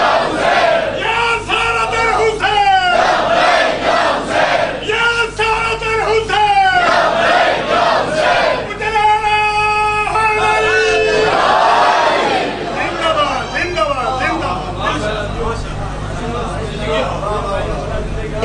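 A crowd chants slogans for Imam Hussain at a zakir's religious gathering, loud massed voices rising in repeated bursts over a continuous hubbub of speech.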